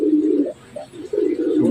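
A pet Torres pigeon coos in two low, soft phrases separated by a brief pause, close and clear with no talking.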